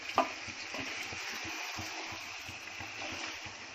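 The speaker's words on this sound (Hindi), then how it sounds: "सिर्फ थोड़ा सा अल्टी पलटी करूंगी, बाद में अपना गोश्त अच्छे से भुना जाएगा।" Mutton being stirred and fried, with a constant close sizzle and hiss broken by soft scraping and turning sounds, plus one brief clink near the start.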